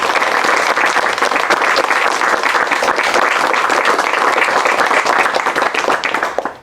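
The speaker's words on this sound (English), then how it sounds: "Congratulations and a second round of applause." Sustained applause from a large audience honoring teachers, dense steady clapping that stays loud throughout and tapers slightly at the end.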